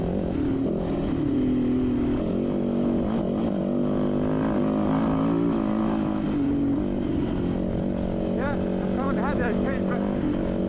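A motorcycle engine drones loudly and steadily throughout desert hare and hound racing, with shifting pitch and wind buffeting, heard from the rider's position.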